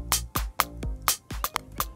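A simple programmed drum beat made in Studio One's Impact drum machine, with punchy kicks and snappy hits in a steady pattern, playing alone with no voices.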